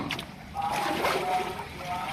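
Water is poured and splashed over a duck during a bath, giving a continuous close sloshing and splattering with people talking over it.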